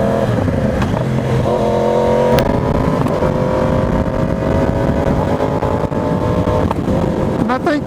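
A 2020 Yamaha R1 sportbike fitted with a 15-tooth front sprocket accelerates hard, its engine note climbing through revs with a shift partway through, loud and close.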